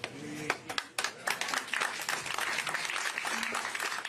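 A crowd at a Nikki Haley campaign rally in Kingston, New Hampshire breaks into applause, starting with sharp scattered claps and swelling into sustained, dense clapping with a few faint voices mixed in.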